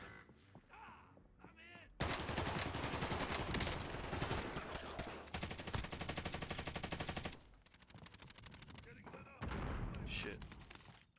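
Bursts of rapid automatic gunfire in a shooter video game during a bounty hunt, loud sustained volleys with brief pauses, a short spoken line heard before the shooting begins.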